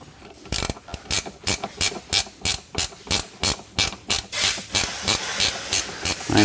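A ratchet wrench clicks off the nuts of a Dinan strut tower brace on an E92 BMW M3, a close, steady run of sharp, evenly spaced ratcheting bursts with no talking.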